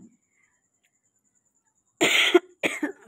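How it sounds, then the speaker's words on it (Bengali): Two harsh, close coughs break a near silence, the first longer and rougher, followed a moment later by a shorter cough. "ভয়েস দিতে দিতে এত শরীরটা খারাপ, কাশি উঠে যাচ্ছে"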